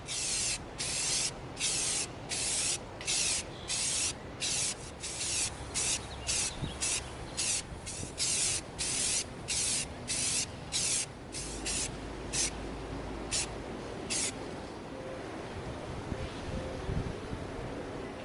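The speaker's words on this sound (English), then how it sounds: "We're gonna spray our RDA pistol with our flat black." An aerosol can sprays flat black paint onto a prop pistol in a long series of short hissing bursts at a steady rhythm. The bursts thin out and fade toward the end.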